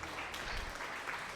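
A short burst of applause used as a sound effect, a dense, even patter of clapping at moderate volume and with no one speaking over it.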